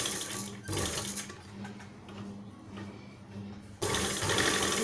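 A sewing machine runs steadily while stitching a blouse sleeve onto the bodice, a close, continuous mechanical whir that drops quieter in the middle and then picks back up.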